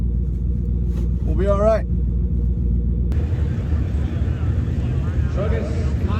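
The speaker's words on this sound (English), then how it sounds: "big old burnout here" A rally car at Coos Bay Speedway holds a loud, steady engine roar through a burnout, the rumble continuing throughout as someone briefly talks over it.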